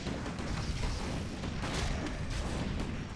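Distant mortar fire from a real-time strategy match booms and thuds in a muffled, continuous barrage, with low rumbling impacts blending into the steady battle noise of the game.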